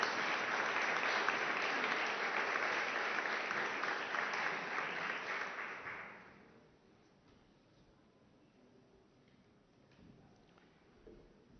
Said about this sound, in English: I invite you for a round of applause.